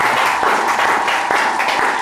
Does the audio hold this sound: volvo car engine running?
no